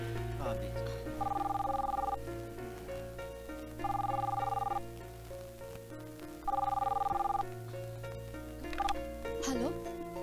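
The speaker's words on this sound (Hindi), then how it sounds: "इतनी सुबह सुबह किसको फोन कर रहे हैं सर?" An outgoing telephone call rings three times in an even ringback pattern, each ring about a second long and separated by pauses, over a steady background hum with faint voices.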